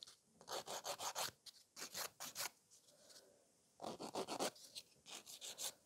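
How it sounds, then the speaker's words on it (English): A nail file scratches across a gel top coat in quick bursts of close, rasping strokes, several rapid scrapes per burst with a brief pause between groups, quiet and without talk. "I'm just going to give it a couple scratches with the file, just so it's quicker."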